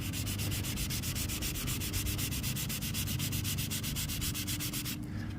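Fine 600-grit sandpaper is rubbed by hand over car paint to fix runs, a close, steady rapid back-and-forth scratching that continues evenly and then stops abruptly near the end.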